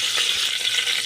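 Mustard seeds and curry leaves sizzle in hot oil for an idli sambar tempering, a close, steady crackling hiss with no pauses.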